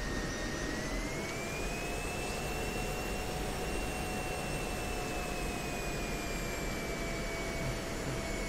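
Steady jet engine whine from an F-16 taxiing in the DCS flight simulator, a continuous loud roar with high sustained tones holding level throughout, no voices.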